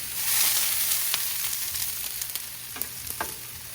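Potatoes searing on a Blackstone griddle set to high heat outdoors in the snow, a steady, loud sizzle with scattered pops and crackles and light scraping, no voices.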